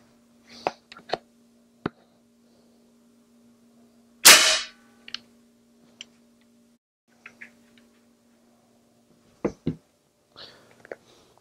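A single loud, sharp shot from a MAC35 .357 big bore PCP air rifle cracks out of near silence, indoors, with scattered mechanical clicks and handling noises before and after.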